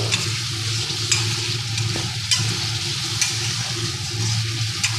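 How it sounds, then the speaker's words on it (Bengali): Spice paste for kali baus fish curry fries in a pan with a continuous close sizzle, broken by faint stirring scrapes and small pops. "দেখুন মশলাটা আমার আস্তে আস্তে ভাজা হয়ে যাচ্ছে সুন্দর"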